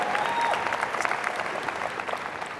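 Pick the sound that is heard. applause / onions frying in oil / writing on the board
applause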